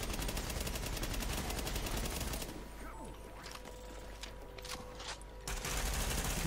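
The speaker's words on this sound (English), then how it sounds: "Why is he shooting at me?" Sustained rapid enemy gunfire in the video game Tom Clancy's The Division, a dense loud automatic burst that drops to sparser scattered shots mid-clip before swelling back to a heavy barrage.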